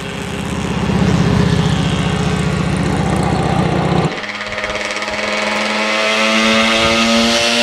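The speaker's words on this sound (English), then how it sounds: "I got one with the engine at full throttle where I could really hear that nice exhaust note" A restored 1985 Yamaha RZ350 Kenny Roberts Edition two-stroke motorcycle with a rebuilt engine at full throttle, a loud, buzzing exhaust note held steady, then dropping and rising again in a harsher, higher rasp.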